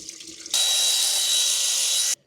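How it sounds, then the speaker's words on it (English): Coolant drains from the oil cooler of a Ford F250 in a steady, bright splashing rush. It starts abruptly, runs loud and close for under two seconds, then stops sharply. No one speaks. "The coolant is going to come out."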